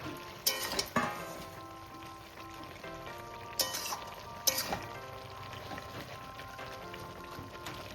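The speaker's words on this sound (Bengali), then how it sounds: "এবার আমি এর মধ্যে দিয়ে দিচ্ছি ভেজে রাখা বড়াটা" Fried fritters dropped into pumpkin greens cooking in an open pan, a soft constant sizzle broken by a few sharp clatters of ladle and pan, near and moderate in level, with no talk.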